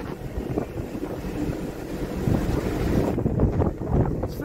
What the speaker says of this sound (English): It's very windy, darling.